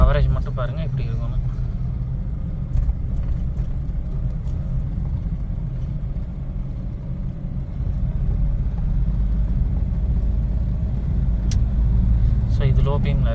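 A Mahindra Bolero drives off, its engine a steady low rumble with road noise throughout, while someone talks over it.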